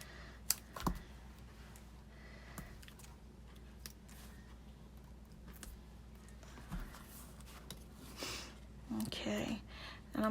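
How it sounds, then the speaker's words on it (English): Scissors cutting paper pieces for a card craft project, making soft snipping clicks scattered through a quiet room, with a few louder rustles near the end. "And cut with my scissors."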